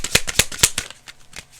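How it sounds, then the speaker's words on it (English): A deck of cards being shuffled close by, with a quick run of crisp riffling snaps followed by a few softer, scattered flicks. "I like the sound of the shuffle."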